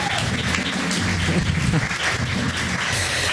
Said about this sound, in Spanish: Dale un aplauso al Señor por eso.